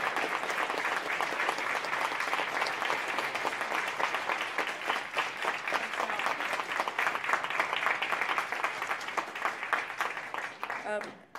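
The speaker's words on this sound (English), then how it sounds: "If you guys give a round of applause to Assistant Chief Fulk." Long, sustained applause rises from the crowd at a Little Rock community forum for an assistant police chief. Many hands clap steadily at a fairly close distance, with a murmur of voices underneath, before the clapping thins out at the very end.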